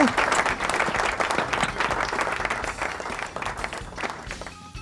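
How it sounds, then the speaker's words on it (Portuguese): Applause from a virtual audience at an online charity run event, continuous dense clapping holding steady for several seconds before thinning slightly at the end. "palmas para ele, plateia virtual"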